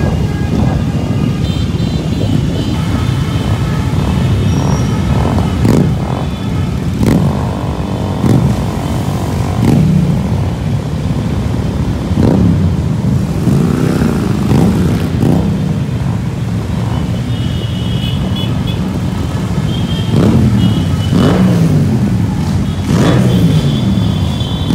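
Motorcycles riding and revving at the Distinguished Gentleman's Ride in Madrid, a continuous loud engine rumble with repeated throttle blips and rising revs as bikes pass close by, plus some wind buffeting on the microphone.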